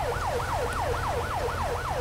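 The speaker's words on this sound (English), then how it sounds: "And there's an ambulance right behind him." Ambulance siren in the video game FiveM, wailing in a rapid, even rise-and-fall yelp that repeats about every third of a second, loud and steady over a low engine rumble, with no voices.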